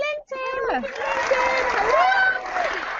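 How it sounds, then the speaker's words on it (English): An audience at a business networking talk breaks into applause mixed with loud whoops and cheering voices, a steady crowd roar lasting about three seconds after a brief pause. "Applause."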